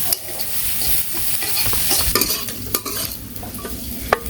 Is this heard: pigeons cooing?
no